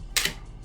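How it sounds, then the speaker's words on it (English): A folding pocket stove from a survival kit snaps shut with one short, crisp metallic click, close by, with quiet room tone before and after. "Then it just closes back up."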